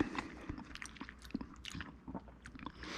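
Close-up mouth sounds of someone eating a home-cooked meal of rice and mushrooms, soft irregular chews and wet squishes with a few light crunches, quiet and without talk.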